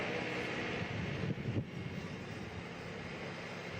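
Several Renault Clio Cup race car engines idle and rumble together in a Spanish series pit lane, a steady broadband drone with a brief swell in the middle, no voices.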